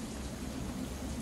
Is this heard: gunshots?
no